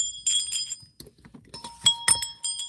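Bell and chime effects ring out in two bursts for a stream donation, bright ringing tones with clinks, and quieter noises in the gap between them.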